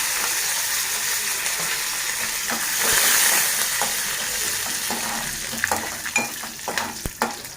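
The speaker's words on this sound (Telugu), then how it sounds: "చీలకర్ర పచ్చిశనగపప్పు ఇందులో వేసుకొని వేయించుకోవాలి" Cumin seeds and chana dal fry in hot oil, giving a steady close sizzle with scattered pops and crackles, and a spoon scrapes and stirs the pan toward the end.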